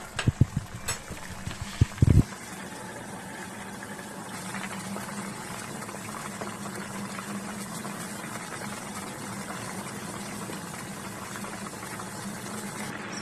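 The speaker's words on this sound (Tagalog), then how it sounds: "isi-simmer natin siya ng mga another 20 minutes" Winter melon soup with bean sprouts in about three cups of water simmers in a pot. A brief clatter opens, followed by a steady, soft bubbling that continues alone.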